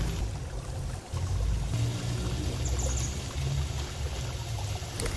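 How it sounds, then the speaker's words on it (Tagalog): Water is poured into a pot of kangkong being cooked in a home kitchen, giving a steady splashing stream for several seconds, close and moderately loud. "Saka mag-add na tayo ng tubig at takpan"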